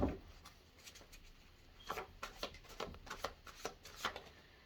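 Message cards being shuffled at close range, a soft, faint series of quick riffling slaps and rubs in an irregular rhythm, with no voices.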